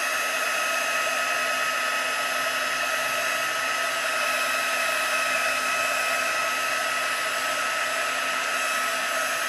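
A heat tool blows hot air to melt embossing powder on a card, making a loud, continuous, even fan roar with no pauses.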